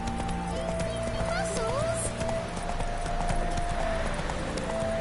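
Roach, a horse in a video game, gallops with steady clip-clop hoofbeats under continuous game music and ambience, with a brief whinny-like call partway through.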